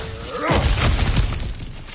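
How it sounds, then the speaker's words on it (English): Cracked ground is smashed open in God of War, a loud crunching shatter with rumbling debris and crumbling rock lasting about two seconds. "back to smashing through things for fun and profit"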